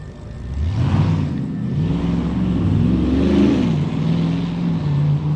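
A drag racing car accelerates down the track, its engine note climbing and shifting in rising, wavering tones, loud and steady for several seconds.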